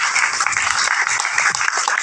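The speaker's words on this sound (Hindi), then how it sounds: "तालियां मैम के लिए।" Audience applauding a doctor at an Ayurveda medicine talk, a steady dense patter of clapping that carries through the whole stretch at even loudness with no voices over it.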